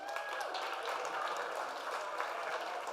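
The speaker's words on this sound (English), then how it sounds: "If we could give him a round of applause" A room of attendees at a real estate agents' masterclass in Orlando claps steadily, a continuous wash of many hands at a fairly low, even level throughout.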